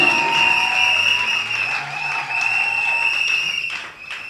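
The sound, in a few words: congregation applauding in church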